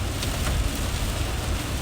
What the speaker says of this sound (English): it's still causing quite the ruckus right here with some very, very heavy rain.